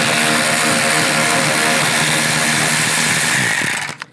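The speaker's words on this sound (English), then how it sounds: "On each side you're going to take a 7mm socket and take these bolts out" A power tool drives a 7mm socket to remove a bolt on a 2010-2016 Buick LaCrosse during headlight replacement, giving a loud, steady close-up whir that runs for about three and a half seconds and then stops abruptly.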